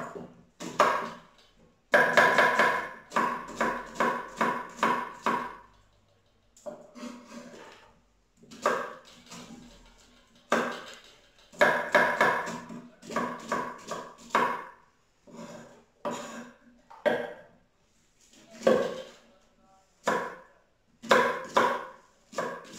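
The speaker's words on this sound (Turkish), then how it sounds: "Soğanın başlarını doğradım." A knife chops onion heads close up, to be added to a frying pan for a fried wild-greens and egg dish from a village garden. The cuts come in quick rhythmic bursts separated by short pauses.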